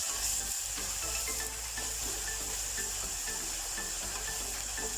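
Onion sizzles steadily in hot oil in a pan as it is stirred, a close, continuous frying hiss with light scraping ticks from the stirring.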